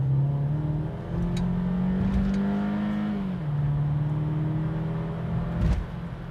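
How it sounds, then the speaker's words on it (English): A 2021 Audi Q2 35 TFSI S line with S Tronic gearbox accelerates hard, engine note climbing, dropping at a quick gearshift, then rising again, heard from inside the car. "When you drive it in a sporty manner, the car, it really moves"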